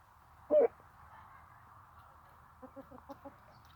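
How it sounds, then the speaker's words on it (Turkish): A single loud squawk from a nearby rooster, then quiet until a short run of soft hen clucks near the end. "Maşallah çok güzel bir horoz."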